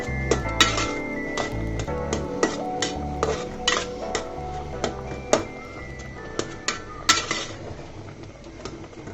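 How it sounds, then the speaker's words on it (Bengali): A spatula stirs raw jujube masala pickle in a metal pan, with irregular scraping and sharp clinks of metal on metal, close and fairly clear. "মিক্স করে দিচ্ছি খুন্তির সাহায্যে"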